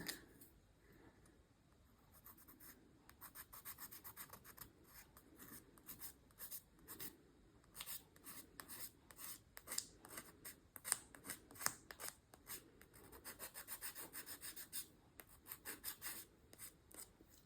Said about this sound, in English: This is a much more gentle file.